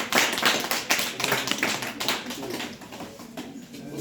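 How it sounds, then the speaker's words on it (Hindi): Students clapping their hands in a classroom, a quick run of sharp, uneven claps that gradually thins out and softens, with voices murmuring underneath. "ताली बजाओ।"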